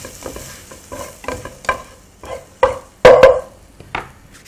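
Spiced curry ingredients for an African chicken curry are stirred in a pot with a utensil, producing a string of distinct scraping and knocking strokes that grow louder toward the end, with no voices.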